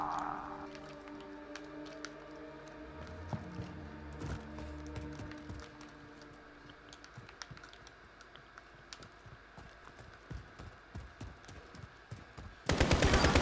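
Rapid AK-47 automatic fire in Call of Duty: Modern Warfare, a dense stream of close, sharp shots running for most of the stretch, with a steady rattle of bursts and a loud burst of noise at the end.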